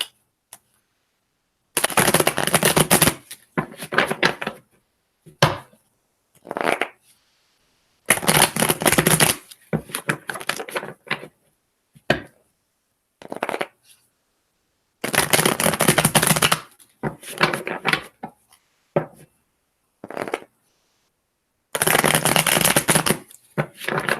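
Tarot cards are shuffled in repeated brisk bursts, each a crisp riffling flutter of a few seconds, separated by quiet pauses and short taps, close to the microphone.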